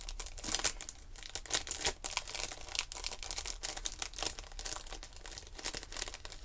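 Thin plastic crinkles and rustles close up in quick, irregular bursts as a small bag is handled and pulled open, with no talking.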